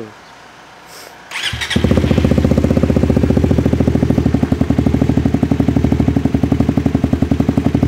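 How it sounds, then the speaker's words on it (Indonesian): A Suzuki GSX-R150 sport motorcycle starts up after a moment of near-quiet, then settles into a loud, steady, close-up idle with a rapid even engine pulse. "Udah, langsung nyalain aja motornya."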